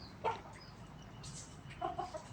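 Hens and roosters raised at a rural Thai home cluck in short bursts at close range, with a few soft calls scattered over a quiet farmyard background.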